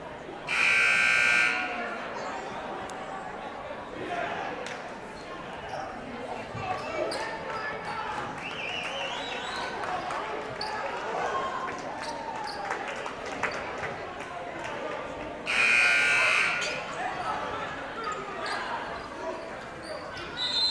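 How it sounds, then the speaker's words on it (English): Loud electronic end-of-game buzzer at a high school basketball game between Colfax and Mondovi, sounding twice, about a second long each time, over gym crowd noise and a commentator's voice. "Inbound, long pass, and there's the buzzer."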